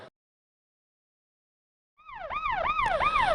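A siren on an approaching car wails in rising and falling sweeps after two seconds of silence, growing louder as it nears, with no voices.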